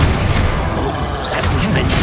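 Confringo fire-blast spells going off in the video game Hogwarts Legacy, loud, dense, rumbling explosion noise filling the whole stretch with a crackling burst near the end, under a voice shouting spell names.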